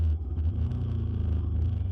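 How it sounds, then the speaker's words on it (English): A steady low motorcycle engine rumble drones throughout, close and continuous, with a faint hiss of surrounding traffic. "thankfully I'm on a motorcycle"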